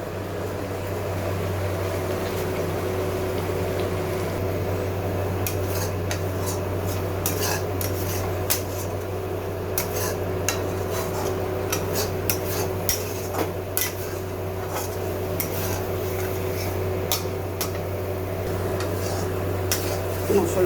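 Spice masala for a chhanar kofta curry being stirred in a pan, a steady low background hum with scattered metallic clinks and scrapes of the spoon against the pan.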